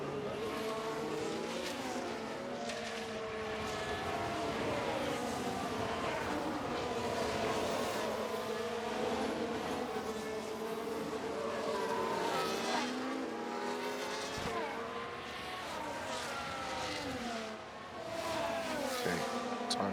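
Formula 1 race cars from F1 Manager 2023 roar along a track, steady engine drone with rising and falling pitch sweeps as cars pass, loud and continuous throughout with no talking.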